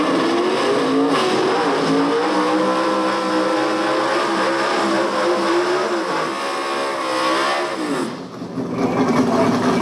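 Gas-class drag race cars at a dragway idle and rumble loudly nearby, engines revving and shifting pitch as they roll toward the lanes, with the sound briefly dipping before surging back.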